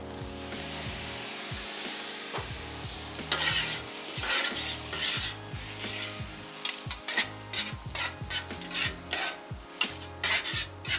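Hibachi fried rice sizzles loudly on a flat griddle as soy sauce is added, with rhythmic metal spatula scrapes and clanks building into a fast, busy chopping pattern.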